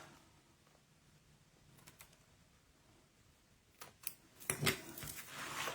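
Scissors snip ribbon for a notebook folio, a few quiet crisp cuts clustered near the end after soft rustling and small taps in a hushed room.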